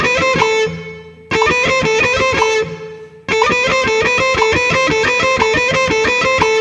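Electric guitar with distortion picks rapid sextuplet notes against a metronome at 60, dense even bursts in repeating phrases broken by two short pauses, loud and close.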